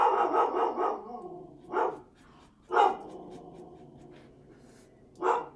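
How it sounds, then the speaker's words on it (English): A dog barks in a home during an afternoon craft session, about five sharp barks in a quick burst followed by three more spaced out, fairly close and loud in an otherwise quiet room. "the dog is barking"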